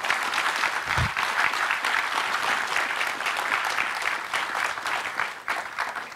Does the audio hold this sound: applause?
yes